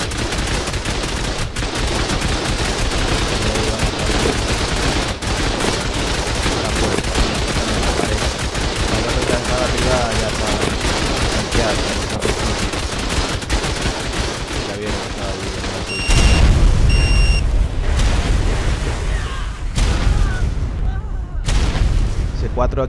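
ARK: Extinction raid with turret gunfire and explosions, a dense continuous roar of rapid automatic fire and booms throughout, with brief sharper blasts and pauses near the end.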